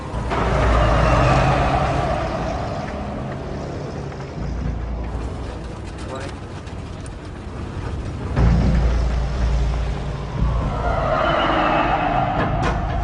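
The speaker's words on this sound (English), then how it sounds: "Stop the truck!" A truck engine drives along steadily at close range, a broad continuous rumble with a few surges and shifts in load, without any talk over it.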